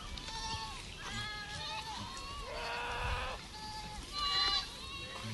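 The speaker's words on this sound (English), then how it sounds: "Those are the goats in my neighborhood." Neighborhood goats bleating on an outdoor walk: several short, wavering bleats at middling distance, with people talking and outdoor noise underneath.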